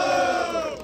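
Brief burst of crowd shouting and cheering at a street rap battle for a rapper, a loud blended roar of voices fading slightly at the end.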